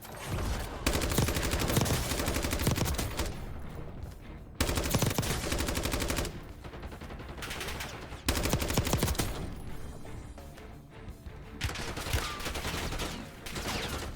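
Heavy gunfire crackles from players fighting on Rebirth Island in the shooter game Warzone 2.0, with long machine-gun bursts and rapid shots in several loud, dense stretches broken by short pauses.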